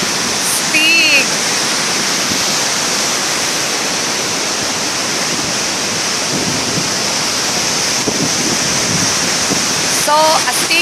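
Steady roaring rush of Taytay Falls in Majayjay, Laguna fills the whole clip, loud and constant, with rain, faint bird chirps and a few brief human sounds on top.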